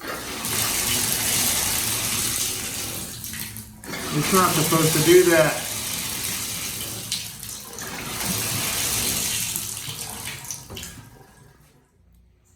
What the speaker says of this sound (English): You can usually just pass the off position and just keep water running.